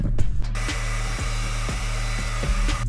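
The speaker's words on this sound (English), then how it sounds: "putting it in that section of the hair and using the blow dryer" A blow dryer drying hair during a wig install runs as a loud, steady whooshing roar throughout, with a couple of brief dips in airflow near the start and at the end.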